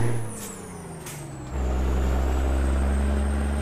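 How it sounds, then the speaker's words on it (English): Heavy truck in American Truck Simulator, pulling a Walmart trailer through New Mexico: a short air-brake hiss gives way to a loud, steady low diesel rumble with a rising whine as the engine pulls. "love the sound of the truck"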